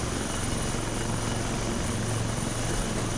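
A military helicopter takes off in a video game, a steady close rotor thrum with an engine whine that holds even and unbroken throughout.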